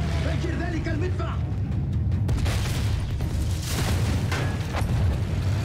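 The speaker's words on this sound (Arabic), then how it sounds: "فجر ذلك المدفع" A field cannon is blown up in the Battlefield 1 video game, heavy booming blasts and rumbling debris over constant low battlefield noise, with someone talking at times.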